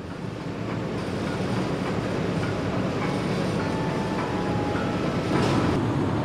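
Inside the cabin of a moving Brantas economy train, a continuous broadband rumble of wheels and carriage runs steadily, with faint rail clatter and a slight swell near the end, no talking.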